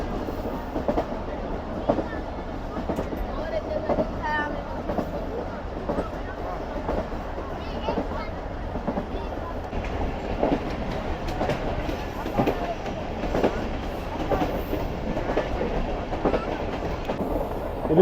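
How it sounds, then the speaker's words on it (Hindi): A passenger train runs at speed on the Larkana to Kotri route in Pakistan, a continuous close rumble with rattling carriages and irregular clickety-clack over the rails, heard from inside the coach. "कुछ इस तरह का हाल है इस वक्त हमारी ट्रेन का, और कुछ इस तरह की स्पीड है"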